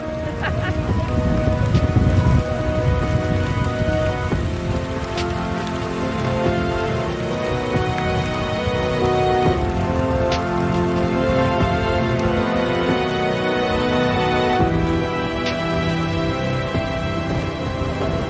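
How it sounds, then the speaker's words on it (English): Steady rain falls outdoors during a whale dissection, a dense continuous hiss of drops on surfaces that stays loud and even throughout. "Here comes the rain, right on schedule."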